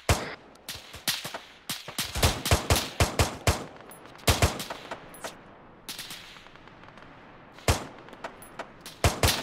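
Close, loud bursts of rifle and machine-gun fire in the military shooter ArmA 3 crack in irregular volleys, with short pauses between strings of shots.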